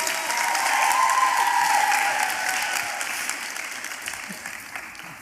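Audience applause at a dance recital, a sustained wash of clapping that swells and then slowly fades, heard from within the hall with a few voices mixed in.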